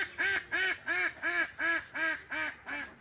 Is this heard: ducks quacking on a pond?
yes